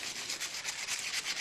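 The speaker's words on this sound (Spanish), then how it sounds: "con un trozo de papel de lija la vamos a dejar impecable." Sandpaper rubbed briskly over a small metal electrode bar, close and steady with quick repeated back-and-forth strokes and no voices.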